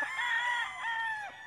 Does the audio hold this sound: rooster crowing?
yes